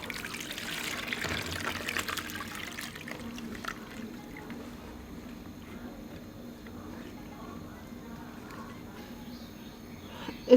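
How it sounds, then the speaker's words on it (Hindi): Salted soaking water drains off sliced potatoes for homemade crisps, a soft pouring and trickling of water in a quiet kitchen that fades to a faint dribble. "20 मिनट के बाद आप इसमें से पानी निकाल दें।"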